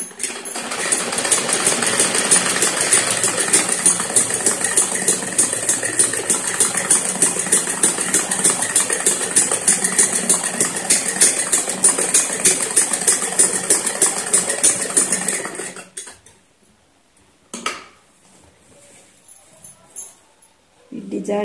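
A sewing machine stitches fabric for a semi Patiala salwar in a fast, steady, close mechanical clatter for about fifteen seconds, then stops, leaving faint intermittent sounds and brief speech.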